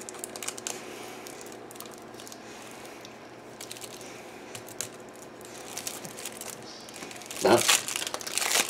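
An X-Acto knife slicing open a package, with soft crinkling of packaging throughout and a louder tearing burst near the end; a voice briefly speaks at the start.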